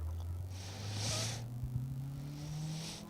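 Rally car on an asphalt stage, a Peugeot 306 S16, engine note climbing again after braking, a fairly distant rising drone with a faint hiss, no voices.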